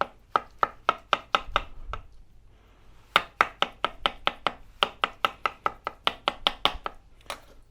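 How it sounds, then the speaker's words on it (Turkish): A knife chops avocado into small pieces on a cutting board in quick, crisp, evenly spaced knocks, with a short pause partway through before the steady rhythm resumes. "Şöyle avokadoyu da burada birazcık küçülteyim."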